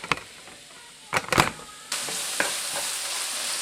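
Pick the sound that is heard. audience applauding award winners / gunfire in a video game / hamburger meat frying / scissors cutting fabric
hamburger meat frying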